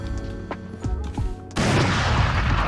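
A single loud Operator sniper rifle shot from Valorant bursts in about halfway through, preceded by lighter in-game footsteps and movement clatter, then a sustained broadband roar and echo that carries to the end.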